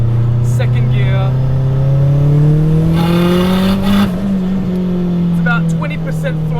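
Inside a turbocharged K20A-swapped Honda Integra Type R DC2 with a Garrett G30-770 turbo, pulling in second gear at light throttle, the engine drones and rises steadily as the turbo spools, loud and close, with a short break near the middle.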